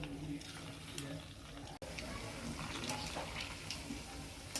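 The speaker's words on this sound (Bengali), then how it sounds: "এবার বলগুলো আস্তে আস্তে করে ছেড়ে দিচ্ছি, দিয়ে ভেজে নিচ্ছি।" Chhana balls fry in white oil mixed with a spoonful of ghee, a low, steady bubbling hiss with faint stirring and one brief clunk midway, quiet and without talk.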